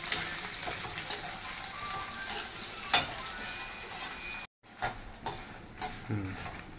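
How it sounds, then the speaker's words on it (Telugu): Dried red chilies and cumin seeds fry in a pan with a steady close sizzle, broken by occasional stirring scrapes and light clinks of a utensil against the pan, with no one talking. "ఎండుమిర్చి, జీలకర్ర, ఈ 3 కలిపి వేపేసుకోవాలి."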